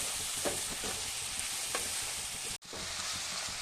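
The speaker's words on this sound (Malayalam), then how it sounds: "ഇത് സവാള നല്ലപോലെ വഴറ്റിയെടുക്കണം" Onions being sautéed in a pan for chilli butter paneer masala, a soft steady sizzle with a few faint stirring scrapes and a brief cut partway through.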